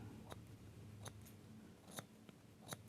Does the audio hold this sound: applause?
no